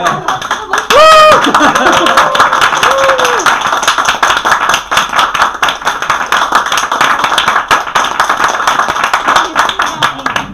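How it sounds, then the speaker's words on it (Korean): Hands clap in a group after a stress-counseling coaching lecture, a continuous crackle of nearby claps lasting several seconds, with a short burst of laughter and chatter layered over the start. "다시 박수 치는 거를"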